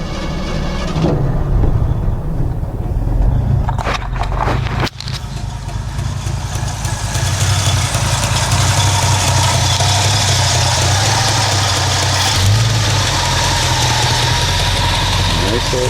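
A 1965 truck engine runs steadily at idle throughout, a continuous low rumble with a brief dip partway through, close and fairly loud, while a person talks over it.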